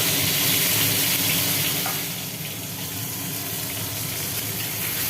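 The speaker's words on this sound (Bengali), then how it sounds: "তাহলে পটলগুলো আগে ভাজা হোক" Whole pointed gourds (potol) frying in oil in a kadai, a loud, continuous hiss of bubbling oil that eases slightly partway through, close up with no voices.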